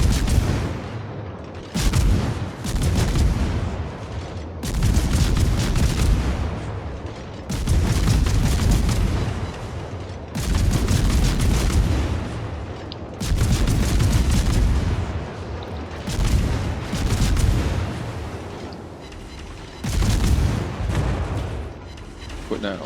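Naval guns fire heavy shells in World of Warships, with repeated loud salvos roughly every few seconds, each a dense booming burst.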